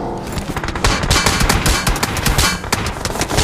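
Dense bursts of automatic gunfire in PUBG on the Sanhok map during an esports match, loud and continuous rapid shots with overlapping fire throughout.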